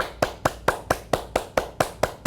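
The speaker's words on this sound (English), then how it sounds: "Now clap a little louder." A single person claps their hands in a steady series of about ten crisp, evenly spaced claps, close and fairly loud, with no talking during a guided yoga session.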